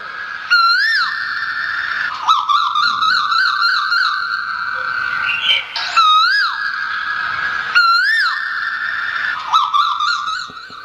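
A performer at a Marathi devotional kirtan imitates a koel's call: loud, close, whistle-like tones in repeated phrases, each rising in a sweeping swoop, with no talking.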